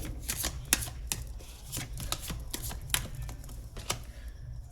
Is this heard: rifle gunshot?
no